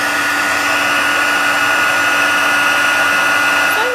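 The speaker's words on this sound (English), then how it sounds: "So I'm just going to heat set that with my heat tool." A craft heat tool blows steadily while heat-setting a decoupage gift box, a loud, continuous close-up whoosh with a constant hum and no variation in level.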